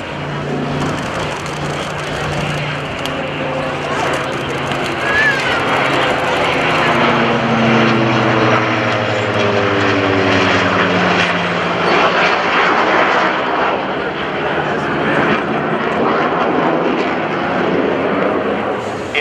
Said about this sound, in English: this great combination of the radial piston engine, air-cooled, and the two GE F404 turbofan engines on the Hornet